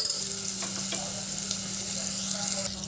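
Onions fry with salt in a pan until browned, a short burst of steady sizzling with a few soft stirring scrapes.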